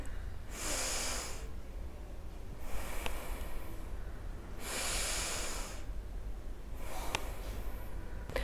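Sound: deep breaths in and out, yoga breathing

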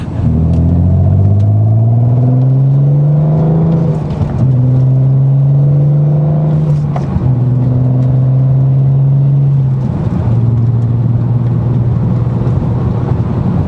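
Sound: car engine accelerating and shifting gears

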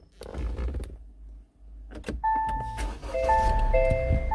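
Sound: SsangYong Tivoli Air car engine starting with smart key

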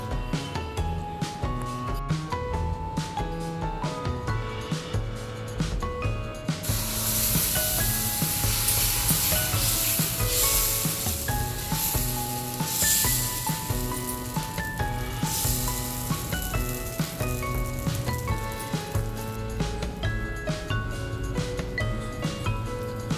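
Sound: hot dosa pan sizzling on the stove

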